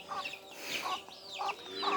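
Chickens squabbling with ducks in a rural village yard let out a few sharp, close clucks and squawks in quick, irregular bursts over quiet background.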